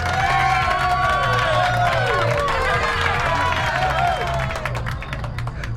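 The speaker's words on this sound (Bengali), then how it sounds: "তালি আর হাসিতে ছাদটা ফেটে পড়ল।" Rooftop celebration crowd applauding and cheering after a toast, a dense, steady wash of clapping and shouting voices with music-like tonal layers running throughout.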